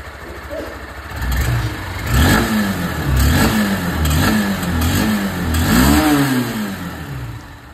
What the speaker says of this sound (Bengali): এবার আপনাদেরকে আমি এখানে ইউনিকর্ন 160-র যে আওয়াজ সেটাও আমি আপনাদেরকে শুনিয়ে দিই।